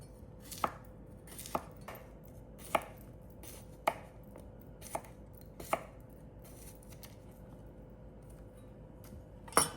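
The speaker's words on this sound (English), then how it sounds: "So we're gonna chop the cucumber into bite-sized pieces." A knife chops cucumber into bite-sized pieces on a board, about eight crisp, evenly spaced strikes close up, with a faint steady hum behind and no talk.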